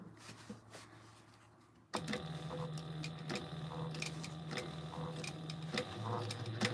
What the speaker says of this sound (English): So now we're going to top stitch this pocket all the way around.